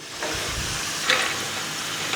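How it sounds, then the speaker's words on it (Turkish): Potatoes fry in hot oil with a steady, close sizzle and a constant hiss, and a few brief crackles pop out of it. "Patateslerin bir kısmı kızardı."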